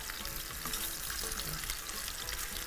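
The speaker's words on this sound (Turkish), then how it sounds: "Etlerimizi önünü arkasını güzelce kavuracağız." Meat sizzles and fries in a pot, a continuous close hiss and crackle with faint scraping as it is browned on all sides.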